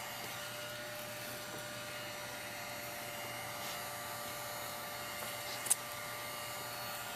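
A heat gun blows hot air steadily to fuse encaustic wax, a continuous close whooshing drone with a faint click near the end.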